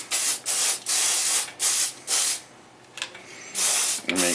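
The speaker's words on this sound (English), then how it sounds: "Then you're going to want to take a blade wash and you're going to want to spray it." Blade wash cleaner sprayed onto hair clippers in a hairdresser's tool-cleaning routine, heard as several loud, close hissing bursts of aerosol spray separated by short pauses.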